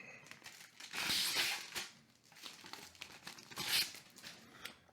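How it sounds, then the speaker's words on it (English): Protective plastic film is peeled and crinkled off a WD My Book 8TB desktop hard drive, with two close bursts of crackling and tearing separated by quieter rustling. "Let's pull off the plastic."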